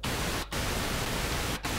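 Pink noise from the noise generator of a Behringer Model D analog synthesizer: a steady, loud broadband hiss with two brief dropouts to silence, no voices.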